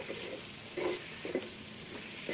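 Bay leaf and whole spices stirred while frying in oil in a pan, a low continuous sizzle broken by a few short scraping stir strokes, close and fairly quiet.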